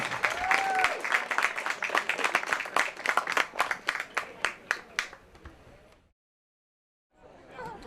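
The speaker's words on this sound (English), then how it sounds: "one last round of applause for your 2025 Senior Shaler Area Boys Varsity Lacrosse Team." Crowd at a Shaler Area boys varsity lacrosse senior day game at Titan Stadium applauds the 2025 senior team, a dense burst of clapping that thins into scattered claps, cuts to silence, then returns faintly.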